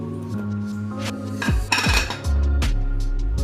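Chopped apple is tipped into a bowl of sweetened cream made with powdered milk and sugar, with close clinks and knocks of a spoon against the bowl, a scraping passage and soft thuds.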